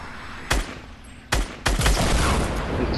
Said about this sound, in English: Who's shooting at you?